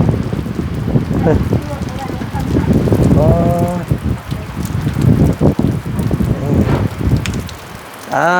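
Heavy storm rain, with gusts of wind, pours down around a house in Laos, a steady close hiss running beneath a voice.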